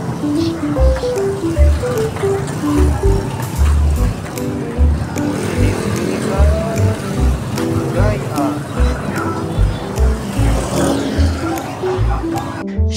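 A motorized tricycle's engine runs steadily, a low continuous rumble that stays loud and close throughout, with people talking over it.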